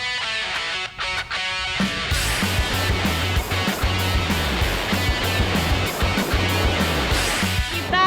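River rapids rush during bamboo rafting on the Amadit River, a steady loud roar of churning water with a low rumbling pulse throughout.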